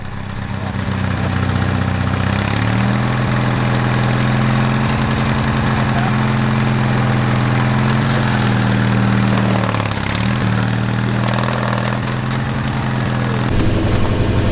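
A riding lawn mower engine idles loudly and steadily nearby, its low throb shifting slightly in pitch as the load changes.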